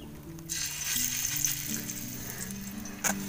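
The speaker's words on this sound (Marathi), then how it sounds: "आता तेल गरम झालं की ही त्यात सोडूया" Chutney fries in hot oil on a bhakri griddle set over a wood-fired stove, a loud continuous sizzle with a brief sharper crackle near the end and no talking.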